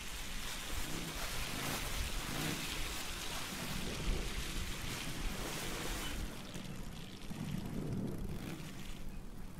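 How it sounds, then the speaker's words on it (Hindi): Heavy rain pours steadily in the video game Days Gone, a dense continuous roar with low rumbling underneath, no voices. "इतना जोर का बारिश"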